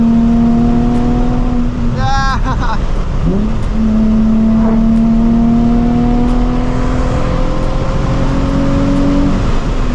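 Nissan 350Z HR with a Megan Racing exhaust, heard from inside on a drive, its engine holding a steady loud drone with a brief rising rev burst near the start before settling back into sustained cruising tone.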